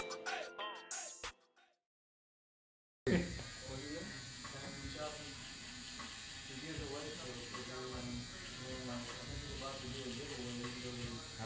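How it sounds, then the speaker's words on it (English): Following a short burst of speech and a silent gap, an Andis reSURGE electric shaver buzzes loudly and steadily up close, with a voice talking under it. "brand new shaver. We got the Andis, the reSURGE shaver"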